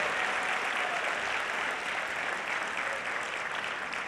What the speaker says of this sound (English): Let's give him a round of applause for his vision.